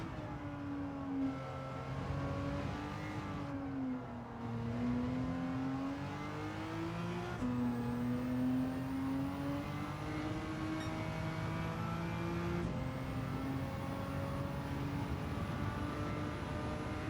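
Maserati A6GCS race car engine at Le Mans in Gran Turismo 7, a sustained whining drone that rises through the gears on the Mulsanne straight with brief dips at each shift, heard alone without talk.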